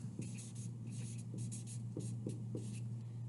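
Pen or pencil writing a math answer on paper, close and soft, with short scratchy strokes and a few light taps in a quiet room.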